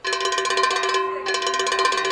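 A rapid, continuous metallic ringing of a bell rung for closing time, loud and close, with a brief pause near the middle before it resumes.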